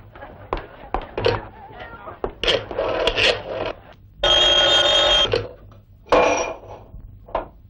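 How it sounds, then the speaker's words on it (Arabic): A telephone rings in bursts: a long, bright electric bell ring in the middle, with shorter trills around it, and a voice talks between the rings. "التليفون الك من المحل"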